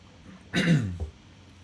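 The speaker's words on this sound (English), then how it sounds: "I got to clear my throat here." A person clears their throat once with a rough, gravelly rasp, ending in a brief low grunt, close to the mic.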